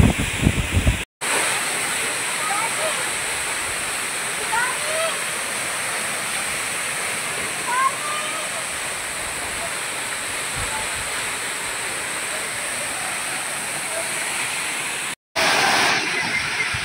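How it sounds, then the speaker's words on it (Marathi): Zenith waterfall at Khopoli, a continuous loud rush of falling water that fills the whole stretch, with two brief dropouts near the start and end. "आपण आलो खोपोलीमध्ये असलेल्या जेनी वॉटरफॉलला भेट देण्यासाठी"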